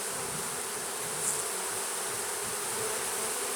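Honey bees buzz in a steady, dense hum around an open nuc hive during an inspection, with a few individual bees passing close, heard alone without speech.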